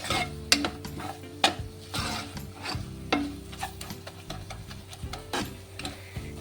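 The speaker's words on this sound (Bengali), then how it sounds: "এবার বেসনটাকে একটু তেলের মধ্যে ভাজতে হবে।" Gram flour frying in oil in a pan, stirred with repeated scraping and rubbing strokes and light knocks of the utensil over a low sizzle, close and moderately loud, no talking.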